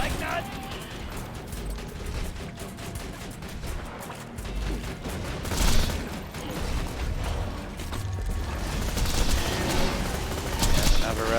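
Axton's deployed turret fires during a Borderlands 2 battle against a rabid enemy: bursts of rapid gunfire mixed with metallic clanks and creaks and game effects, steady and moderately loud, with a voice talking over it.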